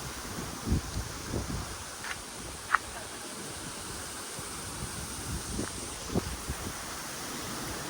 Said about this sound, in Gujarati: ટાટો પવન આવે છે.